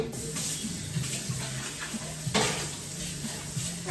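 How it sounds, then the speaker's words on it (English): Running water from a kitchen tap splashes over a tomato being rinsed, a faint steady hiss with small irregular splatters and knocks. "Now, with the tomato, I am gonna rinse it."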